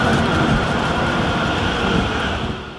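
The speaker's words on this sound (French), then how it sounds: "le métro, il va repasser, et cette fois-ci, il va repasser par ici" Metro train rumbling past close by in a steady loud roar of wheels and rails, holding level for over two seconds before starting to fade, with no talk.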